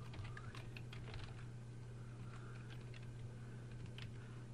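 Steady typing on a computer keyboard while entering code in a web design tutorial, a quick run of soft, close key clicks over a constant low electrical hum, with no talking.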